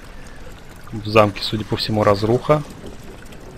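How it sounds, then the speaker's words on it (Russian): Water running through a ruined castle corridor in the horror game Amnesia: The Dark Descent, a soft steady pour in the background beneath someone talking. "Течет вода."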